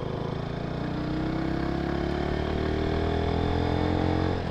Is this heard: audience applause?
no